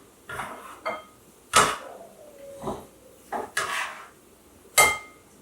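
Peppers, tomatoes, cilantro and oil being combined in a bowl for taco filling, heard as a series of separate sharp clinks and knocks of utensils and dishes with short pauses between them, close by and without talk.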